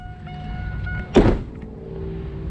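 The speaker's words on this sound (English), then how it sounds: "Pop the hood on this thing" A single sharp metallic clunk as the hood of an LS-swapped Chevy S10 pickup is popped open, heard over a low idle-like background hum, fairly close.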